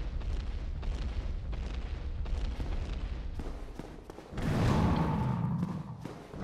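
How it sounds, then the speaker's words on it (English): Bombs thrown by an enemy exploding during a Dark Souls boss fight in Sen's Fortress, a series of dull thuds and booms followed by a louder rumbling blast near the end, no speech. "he throws bombs at you during the boss fight"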